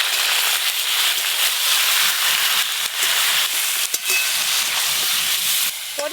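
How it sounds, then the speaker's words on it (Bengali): Fish bones fry in hot oil, a steady loud sizzle and hiss running throughout with occasional crackles and stirring. "তেল গরম হয়ে গেছে, এবার এই মাছের কাঁটাগুলো ভেজে নেব।"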